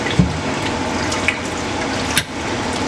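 Trimmed kohlrabi and turnip pieces drop into a bowl of salt water, a close wet splashing and trickling with a few sharper plops and drips standing out over the running-water wash.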